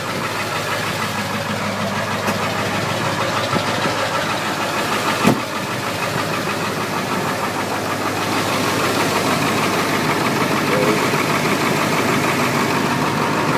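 A 1999 Ford F250 Super Duty crew cab 4x4 with a 7.3 liter Powerstroke diesel idles at operating temperature with the hood open, a loud, steady, close-up knocking diesel clatter with one sharp click partway through.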